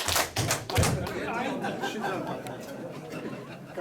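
An audience of older adults at a Korean lecture on preventing depression and dementia claps on cue, a few quick hand claps near the start, followed by murmuring chatter and laughter from the crowd.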